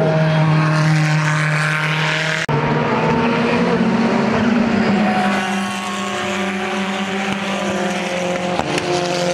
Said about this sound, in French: Oh le petit bruit de turbo.